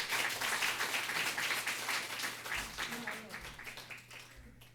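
Congregation applause at a Korean church's Sunday worship service: a dense wash of clapping that fades gradually over a few seconds, with talk mixed in beneath it.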